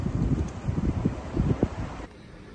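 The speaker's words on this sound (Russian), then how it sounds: "Вот идешь, а только слушаешь ветер." Wind gusting through a deserted, empty town, a steady low rumbling rush with buffeting against the microphone, dropping away abruptly near the end.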